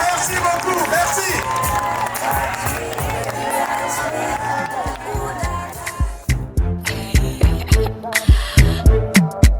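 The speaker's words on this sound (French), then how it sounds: "On applaudit." Guests at a Gabonese civil wedding cheer loudly, then settle into sharp, evenly spaced rhythmic claps that grow stronger toward the end, with voices mixed in.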